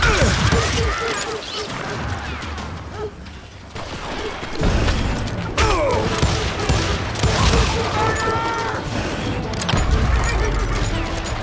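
Gunfire crackles through a Call of Juarez: Gunslinger gunfight, with rapid overlapping shots and sharp bursts in dense volleys, easing briefly in the middle before resuming heavily.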